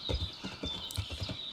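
Horse hooves clip-clop in the video game Kingdom Come: Deliverance, a quick regular rhythm of soft thuds at a moderate distance over a faint background hum, with no talking.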